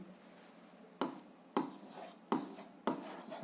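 A pen writes in an exercise notebook during a 7th-grade algebra exercise, giving four quiet, close, brisk scratching strokes spaced about half a second apart over faint room noise.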